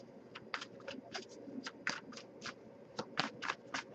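A tarot card deck is shuffled in quick repeated riffles, each a crisp papery burst, close and quiet over a low steady background hum.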